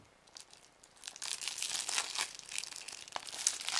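Packaging of a Halo Master Chief Collection Xbox One game being cut and torn open, a close run of crinkling plastic and tearing sounds that grows louder after the first second.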